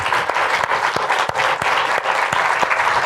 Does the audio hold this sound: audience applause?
yes